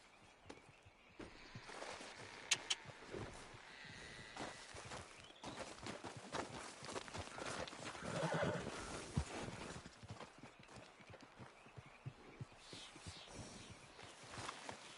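Horse hooves clip-clop in an uneven walking rhythm on a trail in the video game Red Dead Redemption 2, with a brief whinny partway through and faint background ambience.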